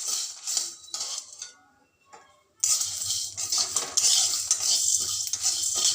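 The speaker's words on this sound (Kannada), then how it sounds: "ಅದಕ್ಕೆ ಸ್ವಲ್ಪ ನಿಧಾನಕ್ಕೆ ಹುರಿಯೋಣ." Lentils roast slowly in a pan while a spoon stirs them, giving scraping, rattling strokes with a short pause before stirring resumes more loudly, close and without talk.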